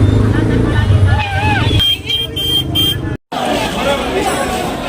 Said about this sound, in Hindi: ट्रैफिक बहुत ज़्यादा है